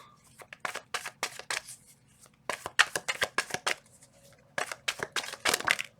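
Tarot cards are shuffled in several quick riffling bursts, close and crisp, separated by short pauses.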